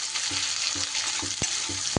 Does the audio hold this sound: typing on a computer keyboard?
no